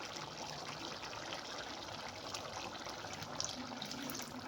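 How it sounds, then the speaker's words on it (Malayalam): Coconut milk is poured into a simmering egg kurma, a faint, soft steady trickle and liquid gurgle that stays low and unbroken, with no talking. "തേങ്ങാപ്പാൽ ഒഴിക്കുക."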